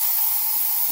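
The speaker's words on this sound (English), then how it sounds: "And you spray it." Insect spray hisses out of an aerosol can in a short, steady burst, close and bright, with nothing else heard.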